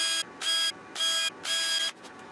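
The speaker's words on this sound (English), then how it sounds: "I could drill some mounting holes all the way through the backer." Three bursts of a small power drill whirring at high speed, close by, drilling mounting holes through a wooden desk backer, each lasting about half a second with short pauses between.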